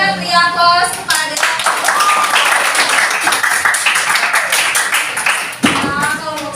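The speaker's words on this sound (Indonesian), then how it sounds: "silakan beri aplaus kepada" A classroom of students applauding a student group after their presentation, a burst of dense clapping that starts after a short spoken lead-in and tapers off, with voices over the end.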